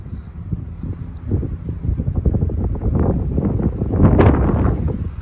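Gusty wind buffets the microphone with low rumbling roars, growing stronger and louder toward the end, with no talking.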